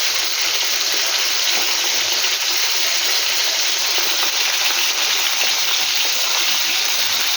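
Flat beans (shim) frying in a pan give a loud, continuous hiss and sizzle that holds steady from start to finish with no talking.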